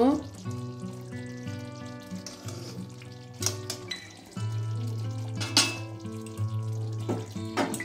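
Kashmiri aloo dum, a potato curry, sizzling in a pan with ghee and garam masala powder: a steady close frying hiss with occasional stirring clinks, over tonal background music.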